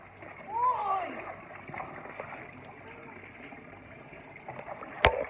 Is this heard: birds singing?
no